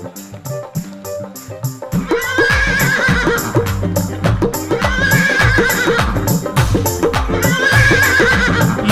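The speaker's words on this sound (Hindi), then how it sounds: "एक बार नीले घोड़े की आवाज आए आपकी तालियों के साथ।" Loud horse whinnies ring out repeatedly over rhythmic Hindu devotional bhajan music with steady clapping.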